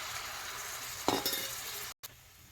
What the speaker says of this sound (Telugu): ఇప్పుడు సన్నగా తరిగి పెట్టిన ఉల్లిగడ్డలు ఆనియన్స్ వేగిపోయినాయి ఇందులో టొమాటో వేసేస్తాము